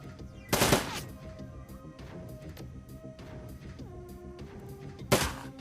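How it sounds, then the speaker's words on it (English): Two loud gunshots in the Shadowrun video game, one near the start and another near the end. Quieter musical background tones fill the gap between them. "So instead of that, I'm going to shoot twice."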